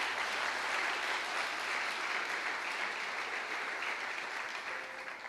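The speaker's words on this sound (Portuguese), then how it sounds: "Aplauda o nome de Jesus para a irmã não ficar sozinha." A church congregation breaks into sustained applause that fills the room at a steady, dense level for the whole stretch, with no speaking voice standing out.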